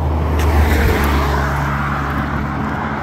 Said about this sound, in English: A little bit of traffic, as you can tell.